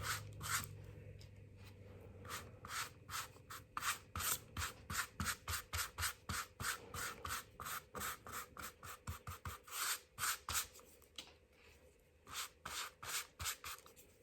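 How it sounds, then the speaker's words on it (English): A brush lays a sealing coat of Mod Podge over a canvas, giving soft, close, rhythmic swishing strokes that repeat in short bursts with small gaps between them. "So I'm going to seal it. And sealing it is just another layer of the Mod Podge."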